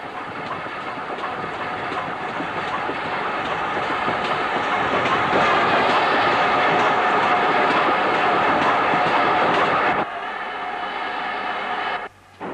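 A steam train enters Borth station close by, a loud steady rumble with rhythmic clattering of wheels on rails, then it cuts off abruptly near the end.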